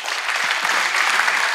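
A conference audience applauds a keynote speaker on investment in green tech startups: steady, dense clapping from a sizable crowd that holds at an even level for the whole stretch.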